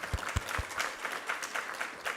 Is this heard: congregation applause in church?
yes